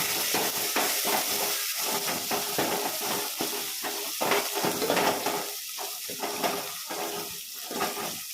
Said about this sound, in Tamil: வெங்காயத்தை போடணும் நல்லா கிண்டி விடணும்